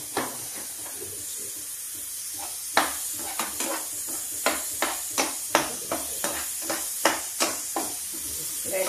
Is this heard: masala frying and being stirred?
yes